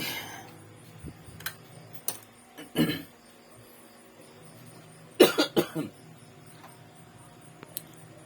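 A few scattered coughs, one sharp single cough followed later by a quick cluster of three or four, amid faint ticking in a quiet room.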